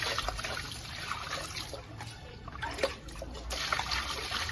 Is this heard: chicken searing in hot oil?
no